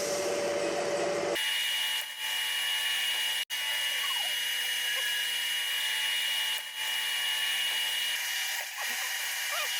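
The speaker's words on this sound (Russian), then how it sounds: "приступил к калибровке самого отверстия под болт" A reamer grinds steadily with a high metallic whine as it sizes a bolt hole in a Hyundai H1 Starex cylinder head, running close and continuous after a brief louder start, broken by a few short dips.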